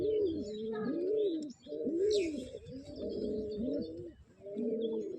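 Male pigeon kept as a pet cooing repeatedly in close, rhythmic phrases of rising and falling coos, with faint chirps from other birds in the background.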